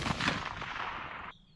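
A single loud shot from a 22 DPC rifle fired at a target, a sharp blast followed by a rolling echo that cuts off abruptly, with no talking.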